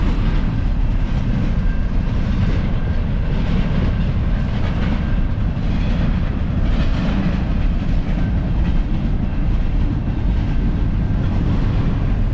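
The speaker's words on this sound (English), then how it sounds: "On the long train running in the background." A long freight train rolls past in Chilliwack, Canada, a constant heavy rumble with faint clickety-clack of the cars that holds steady from start to end.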